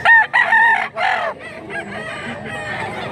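A bullstag rooster crows loudly and close by in a few drawn-out calls, then trails off into softer clucking.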